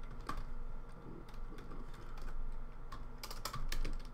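Rapid, uneven keystrokes clatter on a computer keyboard at close range, with quick bursts of clicks and short pauses in a quiet room.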